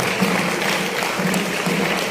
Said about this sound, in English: I think truly, you deserve a standing ovation.